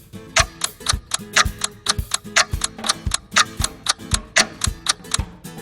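A quiz countdown clock ticks close and crisp, with about two dozen even, sharp ticks and a low thump under many of them, keeping a steady, quick rhythm with no voices.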